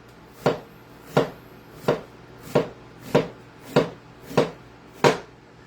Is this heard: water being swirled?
no